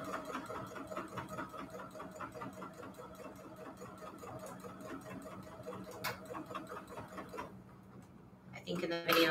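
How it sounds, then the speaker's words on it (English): A sewing machine stitching a seam on a fabric mat, a fast rhythmic needle clatter running steadily up close before stopping, followed by a brief handling clunk. "let's sew. We're just sewing. I'm using some sort of seam that I arbitrarily chose."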